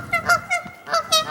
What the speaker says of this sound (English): That goose called in its mate.